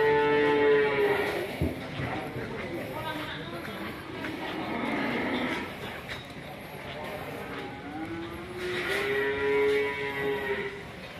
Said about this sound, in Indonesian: Lihat sapi di desa.